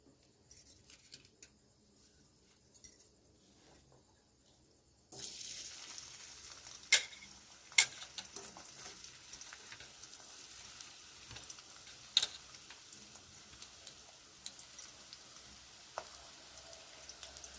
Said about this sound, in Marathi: तर आपलं तेल तापलेलं आहे। आता आपण ह्याच्यात कांदा टाकूया।